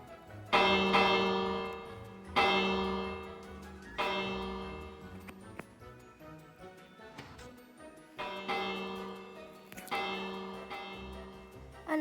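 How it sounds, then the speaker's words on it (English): A bell in the video game Minecraft rings several times, each strike a bright, sustained chime that slowly decays before the next, heard alone with no talking. "Like, for example, this bell."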